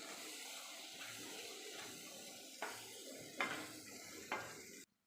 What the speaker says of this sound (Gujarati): બધી વસ્તુને મિક્સ કરી લઈએ